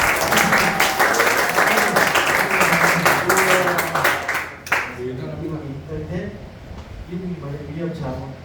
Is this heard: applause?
yes